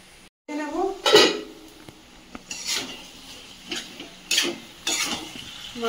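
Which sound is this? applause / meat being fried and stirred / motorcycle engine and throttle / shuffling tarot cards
meat being fried and stirred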